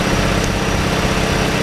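A revived Hyundai Elantra runs at idle with a loud, steady, low rumbling drone that holds constant and close throughout, with no voices over it.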